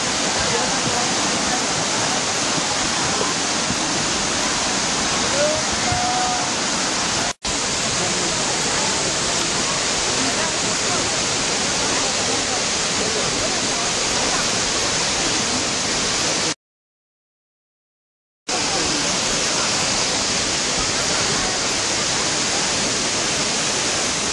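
A loud, steady roar of falling water from Pearl Shoals Waterfall in Jiuzhaigou, China, fills the whole recording, broken by one brief dropout near the end.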